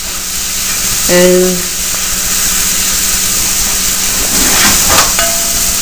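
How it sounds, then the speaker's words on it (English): A pan of vegetables with wine poured in hisses and bubbles steadily while being stirred, a bright constant sizzle with a brief clank of a utensil against the pan and a single spoken word. "So I just threw my wine in there, and I give that a stir, let that bubble, just so the alcohol evaporates."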